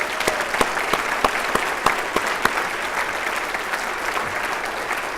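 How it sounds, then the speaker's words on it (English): An audience at a city State of the City address claps in a sustained round of applause, with sharp individual claps standing out over a steady crowd patter. "give Cheryl Golden a big round of applause for helping us with this"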